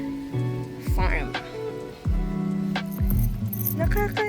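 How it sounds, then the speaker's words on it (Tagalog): Keys to a newly built bamboo nipa hut jangle and clink in hand at a small farm, several bright metallic rattles under steady speech and outdoor background noise. "At dala ko na yung susi ng kubo."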